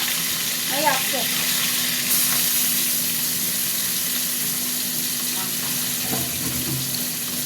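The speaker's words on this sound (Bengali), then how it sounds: "তেল গরম হয়ে গেছে বন্ধুরা, এবার মাছটা ভাজবো।" Fish frying in hot oil in a home kitchen, a steady broadband sizzle holding through the whole stretch at moderate, close level, with a few faint clinks and small shifts but no talk.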